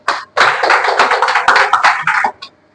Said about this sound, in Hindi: ताली में कंजूसी मत कीजिए आप लोग।